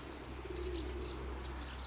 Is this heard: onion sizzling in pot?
no